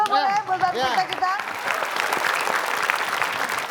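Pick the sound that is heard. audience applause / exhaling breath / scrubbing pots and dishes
audience applause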